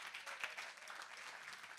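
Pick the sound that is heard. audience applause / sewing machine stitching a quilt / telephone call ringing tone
audience applause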